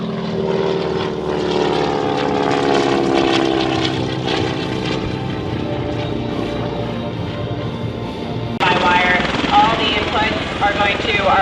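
A North American F-86 jet flying at a Marine Corps air show at Kaneohe Bay gives a loud, steady engine roar that holds for the whole stretch and swells louder near the end.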